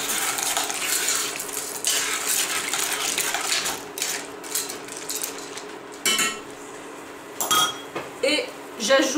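A spoon scrapes and clinks against a pot while stirring a mustard sauce with mushrooms and their juice, with faint sizzling and irregular metallic knocks, close and moderately loud.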